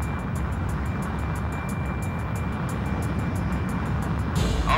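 An F-14A's jet engine roars at takeoff in the video game Ace Combat Infinity, a steady dense rumble with a faint rhythmic pulsing above it that grows slightly louder toward the end.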